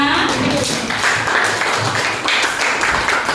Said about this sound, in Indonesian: baiklah, tepuk tangan untuk kita semua.